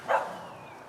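A single short dog bark rings out at a moderate distance outdoors, then fades into quiet background.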